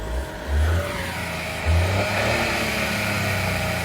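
A Ford Fiesta EcoBoost turbo engine revs in two short throttle blips, then settles into a steady, close idle hum, with no talking.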